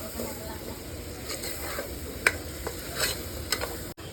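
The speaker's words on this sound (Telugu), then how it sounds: "మా పెద్దమ్మ వండుతున్న మటన్ కర్రీ." Mutton curry sizzling in a pan as it is stirred, a soft continuous hiss with scattered scraping spoon strokes, fairly quiet and close.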